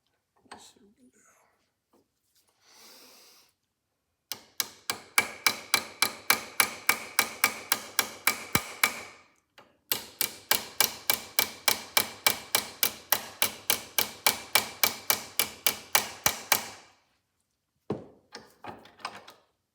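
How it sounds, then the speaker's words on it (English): Small ball peen hammer peening a Victor E governor drive gear held in a vise on a brass support, two long runs of steady, evenly spaced metallic taps, close and crisp, with a few scattered taps at the start and end. "till you get it peened over with a little ball peen hammer"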